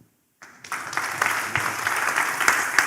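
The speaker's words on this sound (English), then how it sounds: "A round of applause, ladies and gentlemen." Audience at an Africa emerging markets forum applauding after a panel session, the clapping starting abruptly after a brief silence and swelling into sustained, dense applause from a large room.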